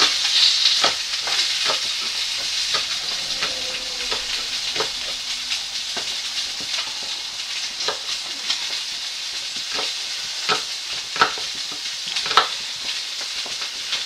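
Onions frying in a pan give a steady, fairly loud hissing sizzle throughout, with scattered crackles and pops and occasional stirring sounds; no talking.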